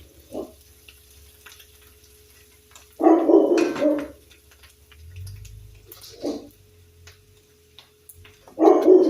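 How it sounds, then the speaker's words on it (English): A pet dog barks in a kitchen where onions are cooking for a low-carb French onion chicken dish, giving three or four loud, separate bursts of barking with quiet gaps and faint background noise between them. "You're probably going to hear Buddy bark a lot"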